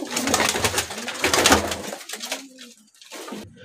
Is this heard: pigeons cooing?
yes